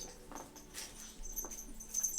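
A puppy whimpers faintly, giving soft, intermittent whines and small rustling sounds against a quiet indoor background.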